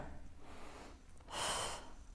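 Breathing during a postpartum abdominal and glute workout: soft quiet breaths near the microphone, followed by one stronger, forceful exhale lasting about half a second.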